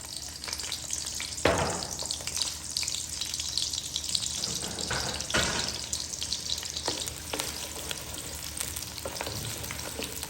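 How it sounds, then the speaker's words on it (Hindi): Chopped onions hit hot oil in a pan and fry with a steady loud sizzle, broken by several sharp bursts as they are stirred, close and continuous with no voices. "इसमें मैं प्याज ऐड कर दूंगा।"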